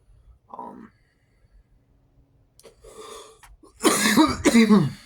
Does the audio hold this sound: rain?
no